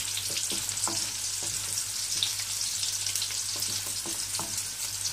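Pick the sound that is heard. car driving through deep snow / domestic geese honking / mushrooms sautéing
mushrooms sautéing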